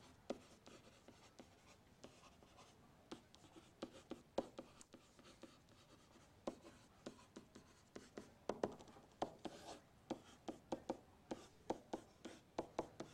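Chalk or marker tapping and scratching on a board during a math lesson on inflection points, with quick uneven strokes in bursts, close and fairly quiet, without talk.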